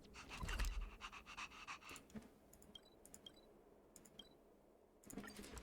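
Dog panting in the video game Honkai Star Rail: quick, rhythmic breathy pants, loudest near the start and again at the end, with faint game clicks and chimes in between.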